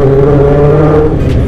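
A high-compression motorcycle engine, recently repaired after blowing up, revs loudly and close by. It gives a continuous rumbling tone with steady harmonics and no voices over it.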